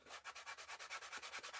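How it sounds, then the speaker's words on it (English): A sanding block works the edges of a leather chest piece in quick back-and-forth strokes, about a dozen rhythmic rasps close up and alone. "sanding block, and I'm just going to smooth and hit those edges"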